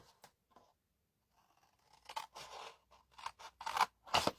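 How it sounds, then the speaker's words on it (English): Scissors cutting two big squares out of card for the base of a gift box: a few faint snips at first, then a quick run of crisp, close cuts and crunches, with no talking. "for one part of the base we need to cut out these 2 big squares"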